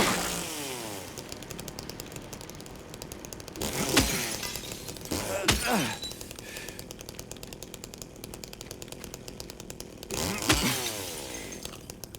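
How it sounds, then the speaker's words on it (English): A chainsaw snarls inside the Silent Hill 2 Remake video game, a continuous harsh buzzing drone broken by three loud rising revs and crashing bursts, with no talking. "Yes, chainsaw's still in the game."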